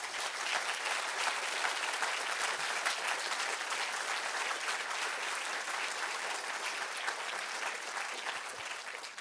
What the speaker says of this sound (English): So can we just have a round of applause for them?